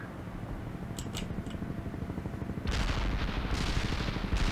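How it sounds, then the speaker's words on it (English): Heavy artillery barrage in the World in Conflict video game: a dense, continuous roll of booming gunfire that grows louder and fuller partway through, with sharper bright cracks early on. "Commencing the barrage."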